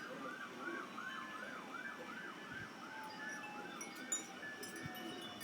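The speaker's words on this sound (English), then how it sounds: "I'm hearing sirens everywhere." Emergency vehicle sirens wail in steady repeating cycles during a thunderstorm, distant and faint under a wash of rain and rumble, with a couple of low thumps.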